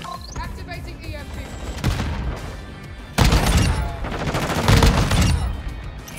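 Gunfire from the MX Guardian shotgun and other weapons in a shooter video game comes as loud bursts of shots and booms, heaviest in the second half, with a player talking over it.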